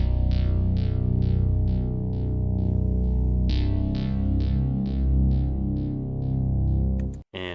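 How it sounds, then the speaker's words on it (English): Two thick, layered synth basses pulse in a repeating rhythm, washed in reverb with delay repeats trailing each note, ending in a brief glitchy cutoff. "both of the basses together sound like this"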